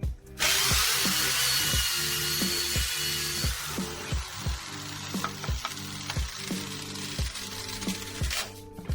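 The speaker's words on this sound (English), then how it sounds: "I drilled 2 holes on here" A steady hiss of shavings and friction runs throughout, punctuated by rhythmic low thumps as a drill bit bores holes into wood for a CB750 chopper build, close and continuous.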